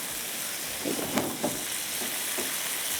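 Chicken fries with ginger and garlic in a pan, a close, even sizzle with a few soft stirring knocks and scrapes partway through.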